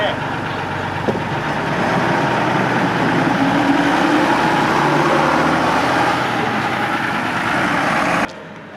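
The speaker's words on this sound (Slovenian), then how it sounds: "Ko je Sašo avtobus ustavil" A vintage Mercedes O321H bus rumbles and slows to a stop, its steady engine and road noise holding close and loud before cutting out abruptly near the end, with voices heard over it.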